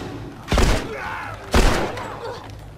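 Two heavy gunshot blasts about a second apart ring out in The Last of Us, each followed by a rumbling decay, over background game sound.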